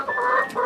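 Backyard chickens give a short burst of clucking inside a coop that needs cleaning. The calls are close and come with no talk.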